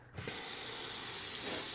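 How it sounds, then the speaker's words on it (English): Water pours steadily from a tap into a rechargeable cat water fountain, a continuous close hiss that starts abruptly and runs without a break, with no talking. "I'm going to go ahead and throw some water in here"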